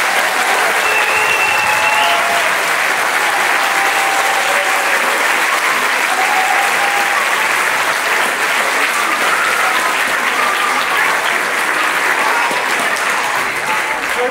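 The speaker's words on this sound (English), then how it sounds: "I'd like to have another round of applause for our youngest choir" A school concert audience gives long, loud, sustained applause for the youngest choir, a thick even roar of many clapping hands with scattered faint voices underneath.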